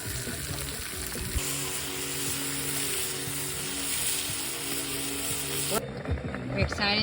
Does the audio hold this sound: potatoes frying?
yes